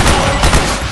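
A short, dense burst of loud gunfire from Metal Gear Solid 4 crackles close and harsh for under a second.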